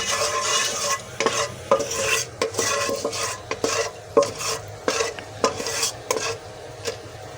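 Green chilies, cardamom and cloves sizzling in a pan for pumpkin and semolina halwa, steady crackle broken by repeated rhythmic spoon scrapes and clinks against the pan, no voices.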